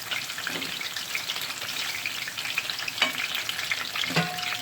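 Eggplants sizzle and fry steadily in a hot pan, a dense crackling hiss with a few sharper pops and spatters, close and continuous with no voices.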